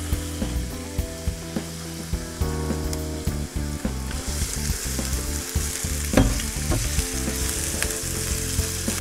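Onions frying in an OptiGrill hiss with a loud, continuous sizzle, and a few clacks of a utensil stirring them come through under background music.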